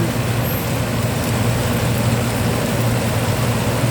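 Steady rain falls over a road with car traffic rumbling past, a dense, continuous wash of hiss and low engine noise with no voices.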